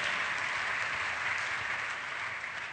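A large audience at an award ceremony applauds in steady, dense clapping that holds evenly without breaks, filling the whole stretch at moderate loudness.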